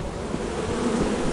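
A dense, continuous buzz of a bee swarm sounds in the video game Lethal Company. It is loud and close, with a steady droning hum and no speech.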